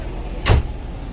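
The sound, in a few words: door being shut inside a 2005 Fleetwood Excursion motorhome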